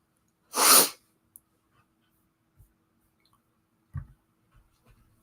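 One loud, sharp sneeze near the start, followed by quiet small clicks and a faint breath. No talking.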